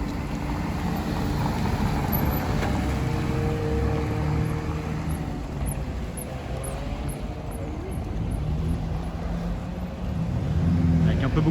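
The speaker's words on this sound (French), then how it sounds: "Cette fois-ci, la Carrera GT qui s'en va." A Porsche Carrera GT drives off along a busy Paris street, its engine rumbling as a steady roar under constant crowd chatter and city traffic noise.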